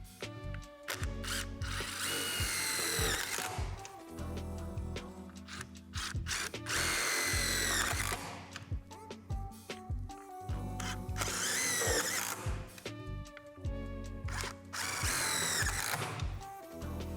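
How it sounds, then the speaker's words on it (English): A power drill drives self-tapping screws into the frame pad of a Lifetime 54-inch portable basketball backboard, in several loud bursts of whirring and ratcheting separated by short gaps. "secure with the self-tapping screws"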